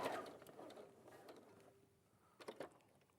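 Sewing machine stitching a quarter-inch seam: a faint, quick mechanical whirr and ticking that trails off, then a couple of short clicking bursts, close and quiet.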